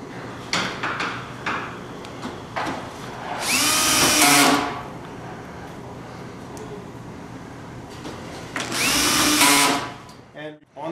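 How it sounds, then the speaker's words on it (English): A power drill drives screws into pre-drilled holes while assembling SmartBoxx panels, with two loud whirring bursts of a few seconds each, separated by handling clatter and light knocks. "you just carry your screws along and continue to drive them into the holes"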